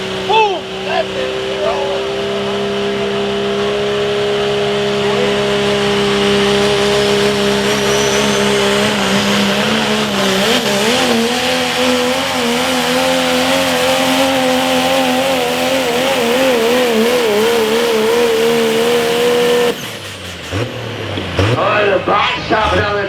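Pro stock diesel trucks pull the Terminator sled at a truck pull in Mazomanie, Wisconsin, a loud sustained engine roar with wavering pitch under excited announcer commentary, then a sudden drop near the end as the run finishes.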